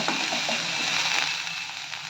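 Onions sautéing with garlic and turmeric powder on a low flame produce a steady, close sizzle with light scraping and clinking of stirring throughout.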